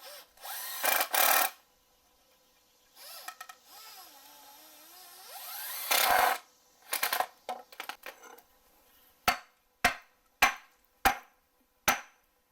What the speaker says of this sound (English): Let's go ahead and run the screws in.